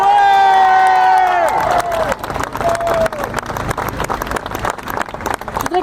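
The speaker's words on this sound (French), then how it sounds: "Je voudrais, dans un premier temps, qu'on applaudisse très fort Marion Maréchal." A rally crowd bursts into loud applause and cheering, sustained clapping and shouts filling the space after a tonal musical opening that fades out.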